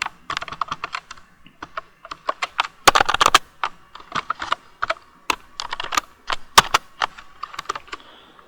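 Crisp keystrokes come one after another on a computer keyboard as commands go into a Windows command prompt. The taps are loud and close in irregular bursts, with a fast flurry in the middle and no talking.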